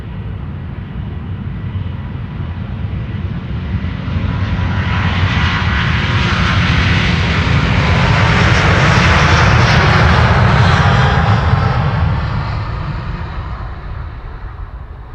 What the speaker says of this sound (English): China Airlines to Taipei, A350-900 flight 74